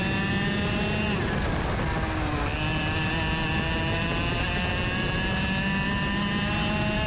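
X30 Junior racing karts roar around the Road America circuit, their high-pitched two-stroke engines layered into a loud, continuous buzzing drone. The pitch rises and falls as the karts pass close by.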